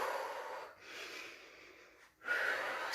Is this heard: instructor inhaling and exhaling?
yes